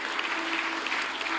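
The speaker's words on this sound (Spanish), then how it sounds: "Denle un fuerte aplauso a nuestro Dios." Church congregation applauding at a worship service, a steady dense wash of clapping throughout, fairly loud and even with no talk over it.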